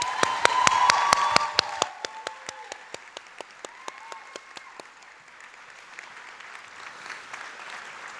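Applause from a Community Health commencement audience, beginning with a few sharp, distinct claps that swell into a dense round and then fade gradually toward quiet.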